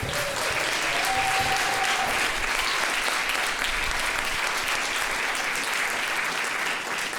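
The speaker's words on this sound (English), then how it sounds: "Give a round of applause, everyone." Loud, dense applause from a school jazz night audience, many hands clapping continuously and evenly with faint crowd murmur underneath.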